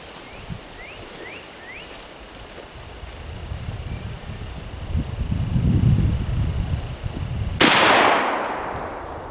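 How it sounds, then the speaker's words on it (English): A gun test-fired into the ground goes off once as a single loud, sharp blast near the end, following faint rustling and wind noise outdoors. "let's give it a test fire, show you guys what's going on"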